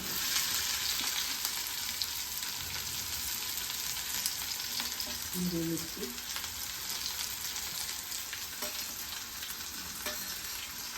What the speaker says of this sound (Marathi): कांदा चांगला लाल होतो भाजी कांदा लाल